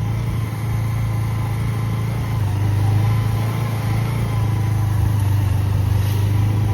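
Cars passing on a road near Khajaguda Hills in Hyderabad, a steady loud engine rumble and tyre roar with a low drone throughout, swelling slightly as vehicles go by, no voices.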